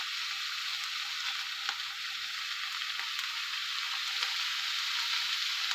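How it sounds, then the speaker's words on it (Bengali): Ingredients for momo frying in hot white oil in a pan, a steady bright sizzle throughout with no talk. "তেলটা আমার গরম হয়ে গেছে। আমি এবার এক এক করে সব কিছু দিয়ে দেবো।"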